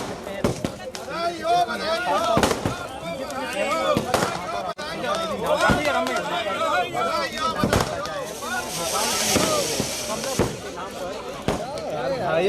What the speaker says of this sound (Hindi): आतिशबाजी कर रहे हैं आप